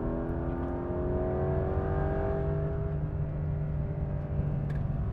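A Porsche 911 Carrera GTS T-hybrid, a C2 with a single electrified turbo, at speed on the Ascari race track, a steady engine note rising through the revs, heard from inside the car at moderate loudness without talk.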